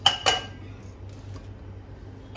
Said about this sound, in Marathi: आता ही मेथी पण गरम झाली, तिलाही काढून घेते.